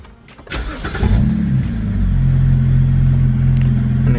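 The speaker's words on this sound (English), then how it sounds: "I'm gonna turn on the car." A BMW E90 engine cranks over and catches around the one-second mark, then settles into a steady, loud, close idle rumble that continues to the end.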